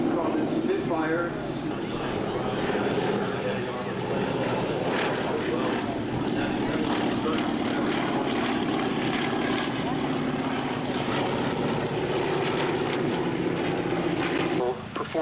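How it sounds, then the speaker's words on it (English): A Junkers Ju-52 transport plane comes in to land on a crosswind runway at a beach air show, its propeller engines droning steadily and loudly throughout while a voice talks over them. "such fine aircraft as our Ju-52 coming in for a landing with Mr. Eskew, Mr. Radwanek at the controls"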